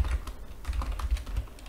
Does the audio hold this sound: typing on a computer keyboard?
yes